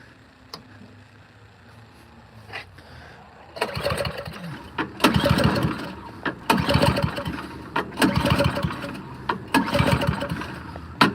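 A snow blower engine, a Craftsman or Troy-Bilt machine, is cranked on test, sputtering and firing in uneven bursts after a quieter start, loud and close with no steady idle.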